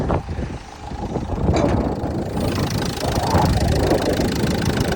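A car engine idles with the hood open, a steady mid-pitched running rumble close by, with no talk over it.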